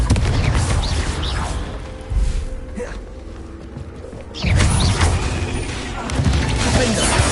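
Confringo fire-spell blasts in Hogwarts Legacy during a magical duel, loud booming impacts with crackling debris and mechanical clatter, several bursts spread across a noisy combat mix.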